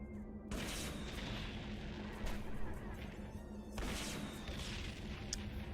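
A grab grenade goes off in TY the Tasmanian Tiger 3, giving a loud blasting boom with crackling debris, followed by a second burst of noise over ongoing game sound.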